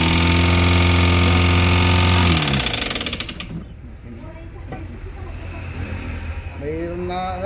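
A Toyota Avanza engine with a noise fault runs with a loud, droning mechanical roar, then eases to a lower rumble before building up again.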